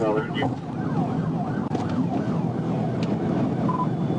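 A police siren wails in a rapid rising and falling pattern, loud and close, over a rumbling background, at night in Arkansas.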